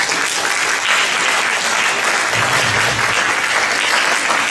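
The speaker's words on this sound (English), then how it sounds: "Let's give them all a round of applause." An audience at an education forum for state senate candidates claps loudly and continuously, a dense, steady round of applause with no talk over it.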